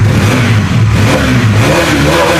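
A used 2024 Bajaj Pulsar NS 400 motorcycle with about 10,000 km on it revs loudly and close by, its engine note rising and holding in a steady, continuous drone with no talking.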